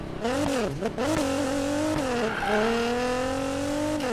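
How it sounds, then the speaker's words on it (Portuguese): A 1000 hp Nissan GT-R biturbo in the racing game Need for Speed Payback roars loudly, revs rising and dipping through quick gear changes before settling into a steady high drone. "olha o ronco desse carro"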